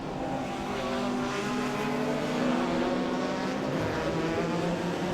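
BMW E30 touring race cars, old and new, race at Cadwell Park, their engines roaring loud and steady as they pass close, with a continuous droning note and no pause in the noise.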